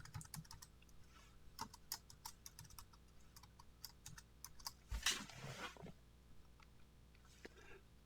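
Someone types on a computer keyboard in quiet bursts of rapid clicking keystrokes, with a brief louder rustle partway through.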